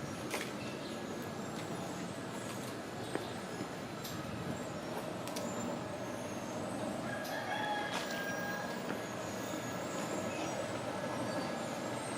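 A rooster crows several times during a Saturday morning walk in Mazatlan, heard at a moderate distance over a quiet outdoor background with faint street sounds and no talking.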